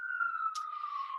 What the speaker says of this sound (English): you can probably hear the siren in the background.